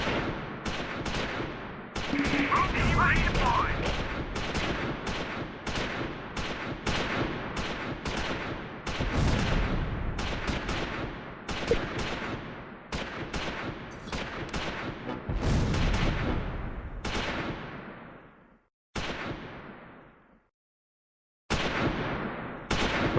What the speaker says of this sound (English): Finch's rifle squad fires at German infantry advancing west.